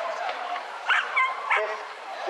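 A working lurcher gives a few short, high yips and thin whimpers, close by and brief, over a faint background hiss.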